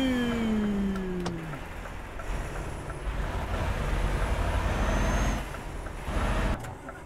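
A truck engine in Euro Truck Simulator sputters and dies, a rough low rumble that falls away, with a falling whine at the start and brief knocks along the way.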